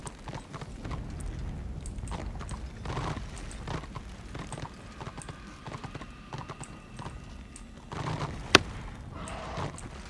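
Horse hooves clip-clop steadily in the online fantasy game Return of Reckoning, a continuous rhythmic trot at moderate volume with one sharp click near the end.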